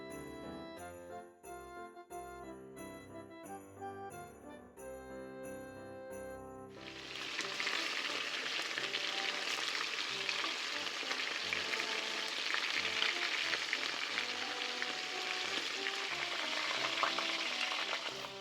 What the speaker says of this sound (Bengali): সবার আগেই চিকেনগুলিকে শুধুমাত্র একটু নুন মাখিয়ে সাদা তেলে হালকা করে ভেজে তুলে রাখবো